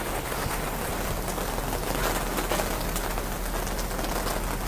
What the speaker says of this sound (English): It's raining so hard suddenly.